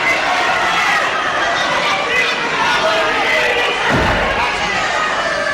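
Crowd noise from a 1978 televised professional wrestling bout between Mark Rocco and Mal Sanders, a steady roar of cheering and chatter filling the hall, with a heavy thud near the end.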